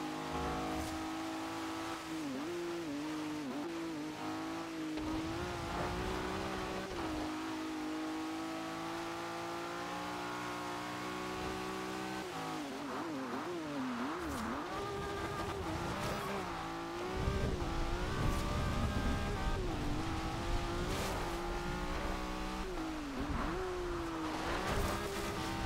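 Race car engines rev and roar continuously in the Forza Horizon 2 racing game on Xbox One. Pitch sweeps up and down through gear changes, with tire squeal in places and a louder stretch near the end.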